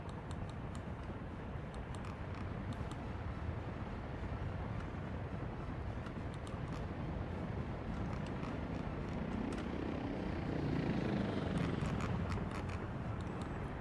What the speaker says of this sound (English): Those helicopters do work fast